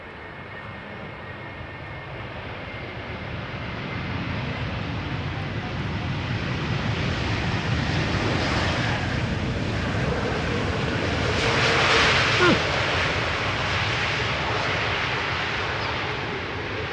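Airliner G-NEOV, first flown in August 2019, arrives at Schiphol's Polderbaan with a broad jet roar that swells gradually, peaks around twelve seconds and then eases, accompanied by some wind noise.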